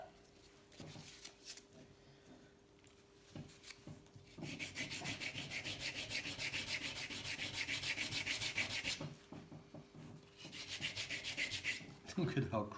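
Cheap sandpaper rubbed by hand over a surface during a gravel touring bike build, soft scratching strokes at first, then a sustained rhythmic rasp, a pause, and another burst, close up.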